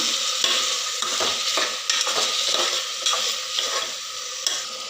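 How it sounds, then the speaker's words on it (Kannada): Chopped vegetables stir-fry in a pan for coconut milk pulao, a loud, continuous sizzle layered with repeated scraping and stirring strokes. "ಕಟ್ ಮಾಡಿ ಇಟ್ಕೊಂಡಿರುವ ವೆಜಿಟೇಬಲ್ನ ಎಲ್ಲ ಹಾಕ್ಕೊಳ್ಳೋಣ ಹಾಕ್ಕೊಂಡು ಈ ಥರ ಚೆನ್ನಾಗಿ ಮಿಕ್ಸ್ ಮಾಡೋಣ"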